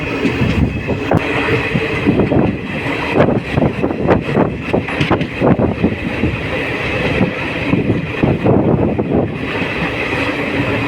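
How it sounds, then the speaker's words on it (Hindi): A special passenger train runs along a mountain cutting on the Rajgir to Tilaiya line, its loud rolling rumble heard from aboard with rhythmic wheel clatter over rail joints and occasional sharp squeals, continuous throughout. "तो हम पहाड़ों के बीच वाले रास्ते से हमारी ट्रेन निकल चुकी है।"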